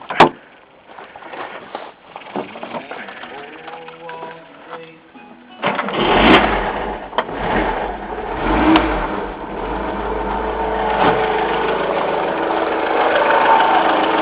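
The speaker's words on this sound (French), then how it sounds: "Je mets le moteur en marche." A Lada Niva 1600 engine cranks and catches while its cooling circuit is being bled, then settles into a steady, loud running rumble that continues close by.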